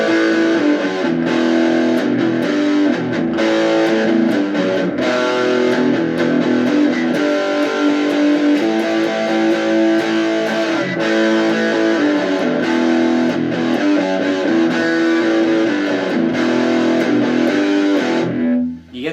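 Distorted electric guitar plays a thick, sustained riff with chugging chords, loud and continuous for most of the passage before cutting off at the end.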